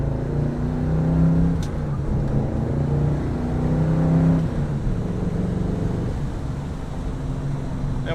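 A 1964 Chevy accelerates hard, its engine revving up loudly, dropping at a gear shift and climbing again to a steady drone.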